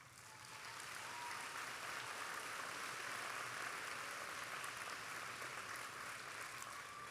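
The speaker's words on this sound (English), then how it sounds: "Please, let's give them one more round of applause." Applause at a high school graduation ceremony, a steady wash of many hands clapping that swells within the first second and holds evenly, heard from a distance in a large crowd.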